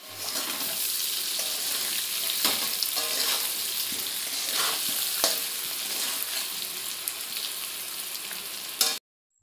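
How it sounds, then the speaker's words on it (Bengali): Potatoes fry in a pan in a home kitchen, a steady loud sizzle with occasional stirring scrapes that continues unbroken before cutting off abruptly near the end. "আলুটাকে ভাজছি"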